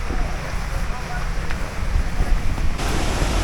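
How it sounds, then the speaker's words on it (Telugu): Polluru waterfall in the forest near Maredumilli, heard from about half a kilometre away: a steady, dense rush of falling water, distant and continuous, with a faint wind-like hiss throughout. "పక్కనే వాటర్ ఫాల్ సౌండ్ కూడా వినొస్తుంది"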